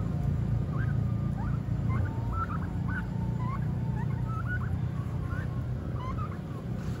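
Turkeys gobbling in a yard, including large males, a rapid series of warbling calls repeating across the whole stretch over a constant low hum, moderately distant.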